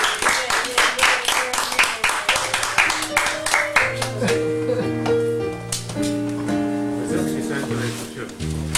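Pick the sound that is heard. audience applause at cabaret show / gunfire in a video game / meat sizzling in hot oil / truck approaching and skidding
audience applause at cabaret show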